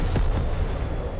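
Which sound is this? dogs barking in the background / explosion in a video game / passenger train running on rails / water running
explosion in a video game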